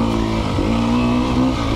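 2020 Sherco 300 SEF Factory dirt bike engine revving loud and close, a continuous buzzing drone whose pitch rises and holds steady, no talk.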